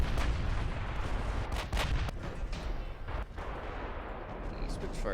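Warship broadside gunfire in Ultimate Admiral: Dreadnoughts, heavy booming volleys rolling one after another into a dense rumble, loud and close, with a voice briefly speaking underneath.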